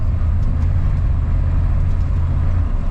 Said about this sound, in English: Now we're cruising down the road towards the shop. We're on gravel.